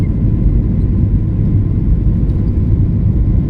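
Passenger airliner on a Bengaluru to Vijayawada flight beginning its takeoff roll, heard from the cabin as a loud, steady low engine rumble and whir with no talking.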